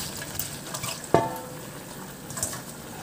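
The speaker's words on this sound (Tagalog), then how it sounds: "At ihalo lang hanggang sa maluto lang din yung kangkong." A spoon stirs kangkong into a pot of bangus sour tomato broth, with a soft simmering bubble, a sharp scrape against the pot midway and faint clinks, alone without talk.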